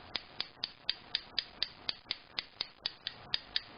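Rapid, evenly spaced sharp taps, about four per second, each a bright clicking knock as a lead-shot-filled tapper strikes a wooden violin tailpiece, close and fairly quiet.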